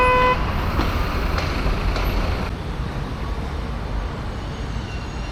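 Street traffic in Paris, a steady mixed road hum with a short horn toot at the very start and a few faint knocks, moderately close and with no voices.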